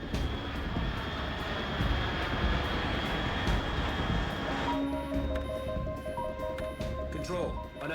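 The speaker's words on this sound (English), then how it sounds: "Unidentified aircraft detected." Aircraft in the video game Metal Gear Solid 3 drones with a steady engine roar, joined partway through by electronic beeps and tones, while a voice speaks over it.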